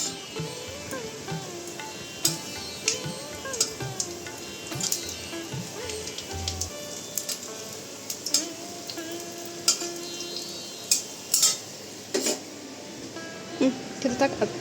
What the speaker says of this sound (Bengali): এসে এই যে গরম গরম এখন ভেজে দিচ্ছি